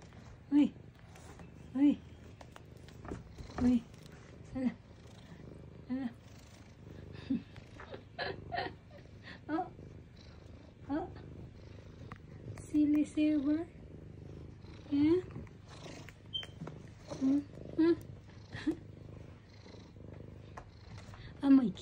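A playful cat purrs with a low, continuous rumble close by, while a person talks to it in short, repeated bursts throughout.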